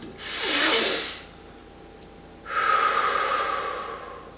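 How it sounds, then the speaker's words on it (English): Two slow, deep belly breaths taken up close: a long inhale that swells and fades, a pause, then a long, steady airy exhale trailing off. "by taking these deep breaths, that might sound so cheesy, but we're doing belly breaths"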